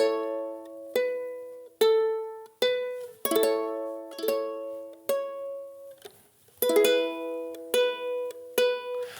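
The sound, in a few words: keyboard lead melody Mary Had a Little Lamb with backing chords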